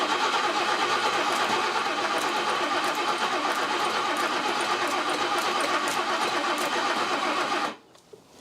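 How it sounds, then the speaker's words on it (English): An old BMW barn-find car engine, unrun for 30 years, cranks and runs with a continuous loud mechanical roar for several seconds, then cuts off abruptly, leaving faint background quiet. "is this engine going to run off its own fuel supply?"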